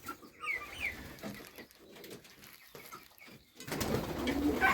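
A pigeon coos softly a few times, followed by louder rustling and fluttering toward the end; no one speaks.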